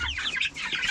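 Chickens cluck close by on a farm, with short overlapping bird calls filling the brief moment and no voices.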